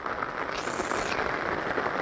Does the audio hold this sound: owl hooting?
no